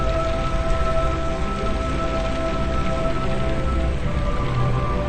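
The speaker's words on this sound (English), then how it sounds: "Now it stopped hailing, it's raining now." Rain falls steadily after a hailstorm, heard from inside a car as a constant dense patter on the roof and windows with no pauses, a low hum underneath.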